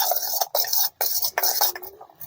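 A spoon stirs chopped onion and chilli into an omelette mix in a bowl, giving rapid close scraping and clinking strokes with brief pauses.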